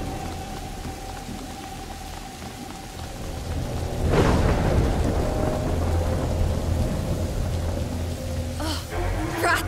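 A heavy thunderclap cracks and rolls through steady rainfall in the medieval game A Plague Tale: Innocence, the downpour continuing loud and close after the strike with a brief second burst near the end.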